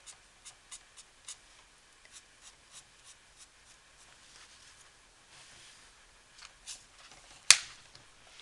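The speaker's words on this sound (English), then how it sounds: "it's just a lot faster getting a solid color down with a marker than with a pencil." A TOUCHNEW alcohol marker rubs and taps across paper in short, regular scratchy strokes, quiet and close, with a sharper click near the end. No voices.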